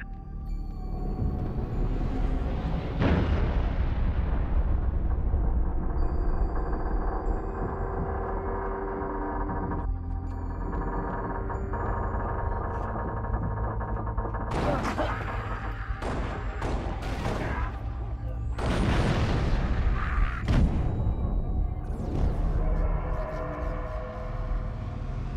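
Artillery barrage in the video game Halo Reach, with heavy booming blasts and rumbling impacts spread over the span, several sharp bursts clustered later, over a low sustained game soundtrack drone.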